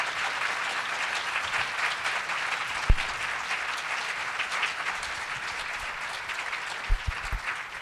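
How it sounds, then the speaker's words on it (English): An audience at a talk on health care reform and higher education applauding continuously, with a fairly even clapping texture and a couple of louder thumps along the way. "would you all please give them a round of applause"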